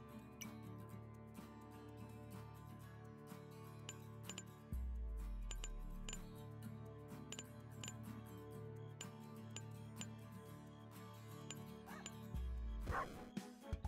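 A cartoon pug in the video game Turbo Pug gives quick, repeated yips and barks over steady game music, with occasional coin-like clinks and thumps.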